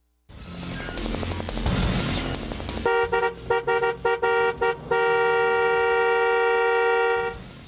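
A car horn honks in a run of short evenly spaced toots, then holds one long loud blast, after a stretch of rough traffic and engine noise at the start, with no talking.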